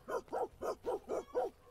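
A dog in the video game 1428: Shadows over Silesia barks six times in an even, quick rhythm, each bark clear and close, with only faint background beneath.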